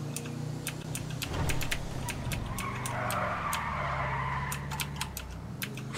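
A car skidding in the game GTA V: tyre squeal and engine noise with sharp clicking taps over it, fairly loud and continuous for several seconds.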